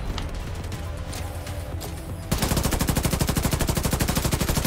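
Gunfire in The Division 2: scattered shots and game sounds, then a loud, rapid, sustained automatic burst of evenly spaced shots close up.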